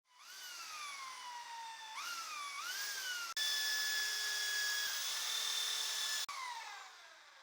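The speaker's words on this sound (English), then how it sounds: "I'll drill right in the center of the wood with the 10mm bit" A 10mm bit drilling into the center of a wood log, a power drill whining up in pitch as it spins, pausing and restarting in short bursts, then holding a steady high tone, close and loud.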